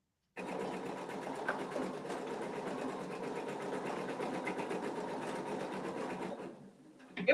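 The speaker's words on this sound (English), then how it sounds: "Your machine sounds so nice. It's running really well tonight." A home sewing machine runs steadily at an even, fast pace for about six seconds, close and moderately loud, then stops with a brief clatter at the end.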